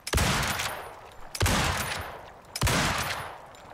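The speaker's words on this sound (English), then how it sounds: "Yeah, so I can fire off 5 rounds in about 1 second in between." Three loud, sharp rifle shots from a lever-action rifle in the survival game Icarus. They ring out roughly every 1.2 seconds, and each crack trails off into a long echoing tail with no talking.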